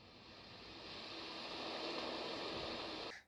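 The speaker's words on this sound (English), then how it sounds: "and ocean surf." Steady broadband rushing hiss from a small sound machine, a soft ocean-surf wash that swells slightly and holds evenly before cutting off abruptly.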